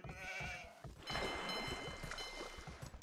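Sheep in Age of Empires II give a drawn-out bleat, fairly loud amid a busy game soundscape, with a voice faintly present.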